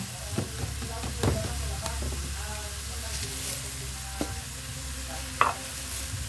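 Egg frying with bitter gourd (ampalaya) in a pan, a continuous close sizzle with a few clicks and scrapes from stirring, steady throughout.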